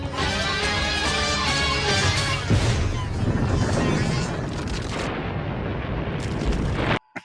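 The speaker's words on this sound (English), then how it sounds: "Blow up the bridge so they can't get there as quick" A cartoon bridge is blown up in an animated Beast Wars episode, with a loud, sustained roaring blast and rumbling debris that fades out, followed by a brief clipped sound.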